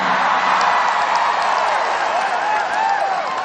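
Audience of women clapping and cheering loudly for Siti Hediati Haryadi (Titiek Soeharto), a continuous dense burst of applause with scattered voices and whoops in the crowd.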